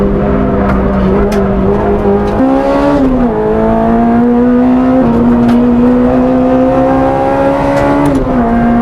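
A 245 bhp Honda Integra DC5 Type R with a K20Z engine driven hard on a race track, its loud, steady engine note climbing through the revs with shifts and dips in pitch, close and continuous throughout.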